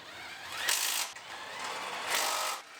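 A ratchet wrench loosens car horn bolts with rapid, buzzing clicks in two close bursts, the second following a short pause.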